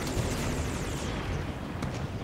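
Heavy Scorpion tank cannon fire booms in Halo 5 Warzone, a dense, loud continuous roar of blasts and rumble with no talking.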